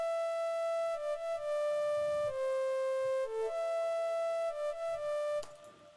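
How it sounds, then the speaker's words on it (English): A synthesized flute patch made with the GreenWave plugin plays a soft, breathy melody of held and gliding notes, quiet and alone, fading out at the end. "I'm adding a little flute sound I made with GreenWave that sounds like this."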